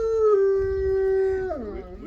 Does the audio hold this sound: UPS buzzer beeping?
no